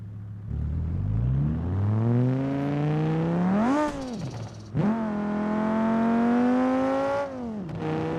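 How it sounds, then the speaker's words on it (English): A tuned Citroën BX revs hard in BeamNG.drive, its engine tone climbing steadily, then a brief airy blow-off valve whoosh bursts out as the revs drop. The pattern repeats later, with no voices. "There's the new blow-off valve."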